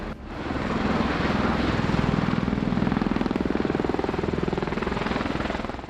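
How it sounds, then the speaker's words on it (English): A helicopter lifts off a rubber-matted helipad, its rotor wash tearing the matting apart; a loud, steady, close rotor roar with a fast blade thump runs throughout. "on takeoff, the rotor wash caught the rubber helipad mattings and completely destroyed the helipad"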